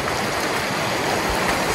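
A desert stream of water flows steadily, a dense continuous rushing and gurgling that stays close and fairly loud, with no voices over it.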